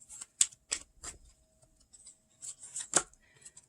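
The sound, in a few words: shuffling tarot cards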